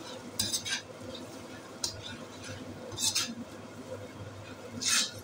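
Onion-tomato masala with a spice paste stirred in a pan for a kofta curry, spoon scrapes coming in a few bursts over a low sizzle, with faint voice-like sound underneath.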